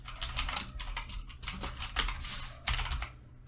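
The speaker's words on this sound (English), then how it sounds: "I'm just typing." Keystrokes on a computer keyboard come in quick irregular bursts with short pauses while someone fills in data, close and clear with no talking.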